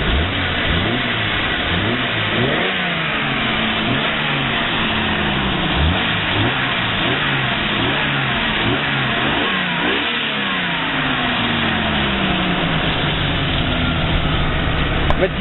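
A 1988 Jeep Cherokee fitted with a Delta 40 Flowmaster exhaust revs repeatedly, the engine note rising and falling in a series of throttle blips before settling toward idle, loud and close.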